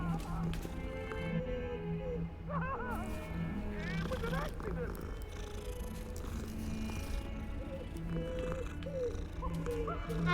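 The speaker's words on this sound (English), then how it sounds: "I'm petting every single cat there is." A cat in the video game Hogwarts Legacy purrs and gives a few soft meows while being petted, layered under game music and a person talking throughout.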